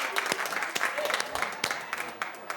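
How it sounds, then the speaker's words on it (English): A studio talk-show audience claps in a steady burst of moderate applause, with a voice talking over part of it. "Clap if you like it."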